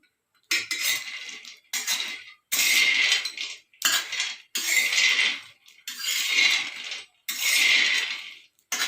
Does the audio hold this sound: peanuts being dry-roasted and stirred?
yes